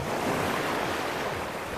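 Waves wash onto the shore at El Maguey bay beach in Huatulco, Oaxaca, Mexico, a steady close surf roar with some wind rush and no voices.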